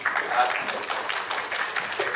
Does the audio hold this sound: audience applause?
yes